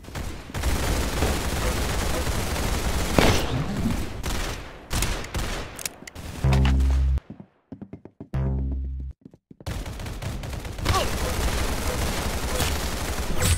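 Heavy gunfire from a first-person shooter game, loud sustained bursts with short gaps and a brief near-silent pause midway before dense shooting resumes.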